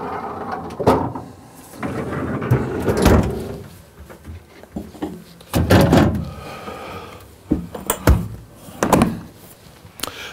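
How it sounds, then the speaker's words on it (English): Pull-out drawers on a residential refrigerator inside a Luxe Elite luxury fifth wheel, slid open and shut several times, giving dull thunks and bumps at irregular intervals, fairly close and clear. "option ice maker in the bottom with a pull-out drawer."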